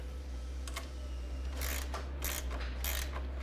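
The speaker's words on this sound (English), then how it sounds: "You can take a 9mm wrench" A 9mm wrench works bolts loose on a Sleepsafe II bed panel, giving a few quick ratcheting clicks over a low steady hum, close and fairly quiet.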